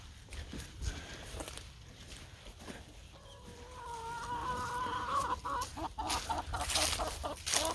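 Chickens clucking on an off-grid homestead, a cluster of nearby hens giving repeated short clucks and a few longer calls, with shuffling footsteps underneath.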